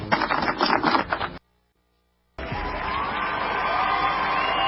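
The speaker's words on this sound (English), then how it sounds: "Let's give him a round of applause" Applause and cheering from a radio show audience, dense clapping for a guest, loud at first, then cut off by a second of silence before sustained clapping resumes and runs steadily to the end.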